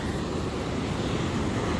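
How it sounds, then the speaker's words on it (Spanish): Ocean waves wash onto the shore at Santa Cruz, California, in a continuous broad roar mixed with wind buffeting the microphone, with no voices. "Miren nomás las olas que vienen. Aquí en el mar, en Santa Cruz, California."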